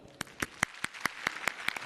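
Sparse, rhythmic clapping from a small group for a young yodelling singer on a Marathi music competition show, about ten evenly spaced claps, fairly faint and brief.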